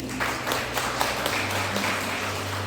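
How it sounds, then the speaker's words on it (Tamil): A crowd applauds steadily throughout at a school reunion speech, a dense wash of clapping over a low background hum, no voices standing out. "கடவுளுக்கு நம்ம எல்லாரும் கைத்தட்டி நன்றி சொல்லுவோம்."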